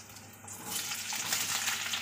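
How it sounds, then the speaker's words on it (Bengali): Half-boiled potato pieces drop into hot tempering oil, setting off a sudden bright sizzle that builds and holds as a steady crackling fry. "এই যে এখন এই ফোড়নের মধ্যে দিয়ে দেবো"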